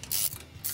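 Spanner or socket turning bolts on a vertical bike rack during assembly: two bursts of ratcheting, clicking metal, close and fairly loud, split by a brief quieter gap.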